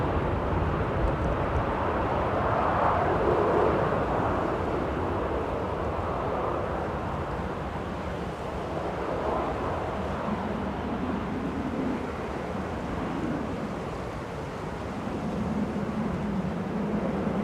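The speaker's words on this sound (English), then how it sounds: "We've got an A220-100 coming in here, HB JBB." A Swiss Air Airbus A220-100 from Zurich arriving at Manchester Airport, a broad steady jet rumble and roar that swells and fades slightly, heard from a distance with no talk.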